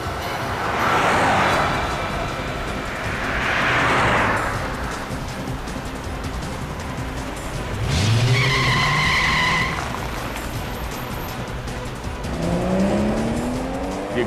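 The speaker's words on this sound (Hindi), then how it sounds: "ये गाड़ी इतनी तेज क्यों भगा रहा है अचानक?" A car accelerates hard and speeds past with tire squeal and skidding, engine pitch sweeping up twice over a busy background, loud and close.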